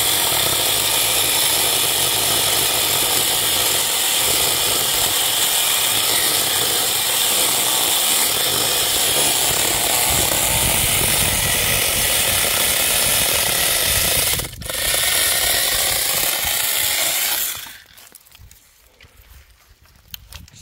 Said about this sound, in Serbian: ti imamo ovakvu testericu pa će polako što bliže zemlji